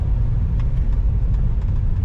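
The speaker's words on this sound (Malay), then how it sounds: "Pick up memang sedap ni kereta" A 2012 Nissan Grand Livina 1.8 automatic car accelerates, with a loud, close, continuous low engine rumble and no pauses.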